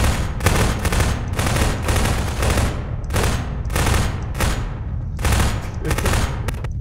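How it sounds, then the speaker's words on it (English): Rapid bursts of automatic gunfire in the Garry's Mod Prop Hunt video game, loud and close, firing in repeated clusters throughout with no voices. "He's shooting down here desperately."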